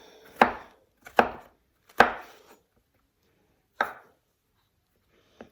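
Knife chopping chestnut mushrooms on a board: three sharp, close chops in quick succession, a pause, then a fourth chop and a faint final tap, with no talk.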